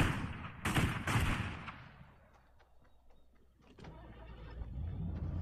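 Engine roar of a Fortnite car surging loudly, then fading as scattered gunshots crack in the distance and the motor rises again toward the end, with no speech.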